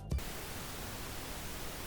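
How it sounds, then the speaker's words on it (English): Pink noise test signal plays as a steady, even hiss with no variation, preceded by a brief soft thump at the very start. "And that's what's called pink noise."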